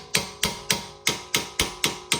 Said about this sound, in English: Get yourself a little hammer.